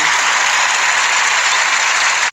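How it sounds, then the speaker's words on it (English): Loud, dense applause from a reality TV studio audience, sustained steadily for a couple of seconds before cutting off abruptly. "Just give them a big old nasty hand clap"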